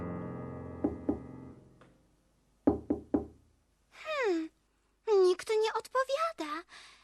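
Knocking on a door as evening falls in a children's Little Red Riding Hood tale: two quick sets of sharp raps, two then three, followed by a child-like voice speaking.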